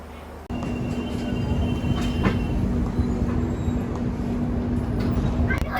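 Ahmedabad Weekly Express pulling out of the station, a steady loud rumble of rolling wheels and carriages that kicks in suddenly, with a faint hum and occasional rattles and squeaks throughout.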